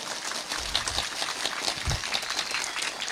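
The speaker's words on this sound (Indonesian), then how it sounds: "tepuk tangan sing banter" Audience applause at a religious lecture gathering, a dense, steady wash of many hands clapping with a few low thumps, sustained for a few seconds without a break.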